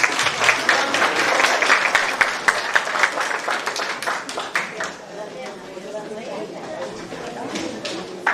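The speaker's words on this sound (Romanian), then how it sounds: "Merită aplauze!" A crowd applauds a junior dance ensemble at the inauguration of a village cultural hall in Talpa, Romania. Lively clapping dominates the first few seconds, then thins to scattered claps as people chatter in the background.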